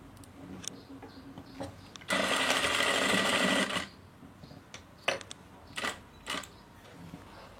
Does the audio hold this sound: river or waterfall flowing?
no